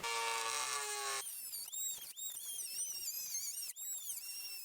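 A Dremel rotary tool fitted with a small diamond wheel whines loudly and steadily at first, then bites into a pipe with wavering, grinding pitch that dips and recovers as it cuts, heard close up.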